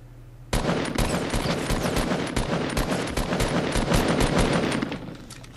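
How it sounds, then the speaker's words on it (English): Rapid automatic gunfire in the Fortnite video game, a dense burst of sharp repeated shots fired nearly nonstop for about four and a half seconds, loud and close with no talk over it. "Let's see if we can get a few shots off."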